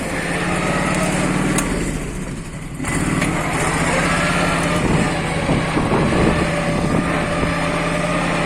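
An MTZ-132 tractor engine runs steadily while disking stubble in a field, with a close, loud, high-pitched buzzing drone and a brief dip in level partway through.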